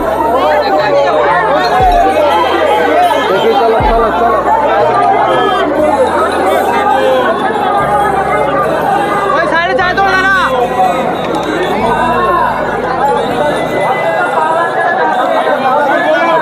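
A big crowd packed around the Dakat Kali temple in Tarakeswar keeps up a continuous, close babble of overlapping voices in the rain, loud and unbroken for the whole stretch, with occasional low knocks.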